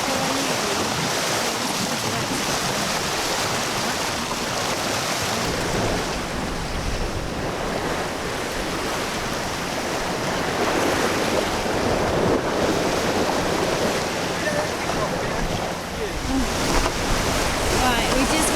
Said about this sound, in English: The waves are pretty big.